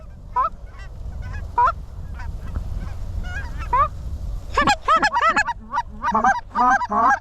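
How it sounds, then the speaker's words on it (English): Snow geese honk in flight above hunters in an Oklahoma field, a few scattered calls at first, then a dense, loud burst of overlapping honks as the flock comes in close. "We got a short neck snow goose coming."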